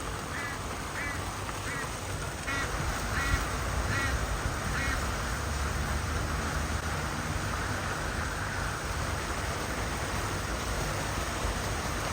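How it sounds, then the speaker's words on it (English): A duck that cannot fly well quacks in a short series of calls near a garden shed, fairly distant over a steady background hiss. "That's the duck that can't fly very well."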